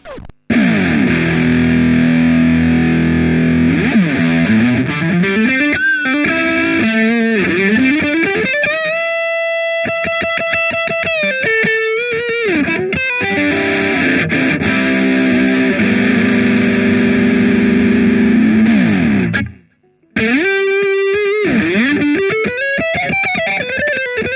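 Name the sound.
Jackson JS32-Q electric guitar played with distortion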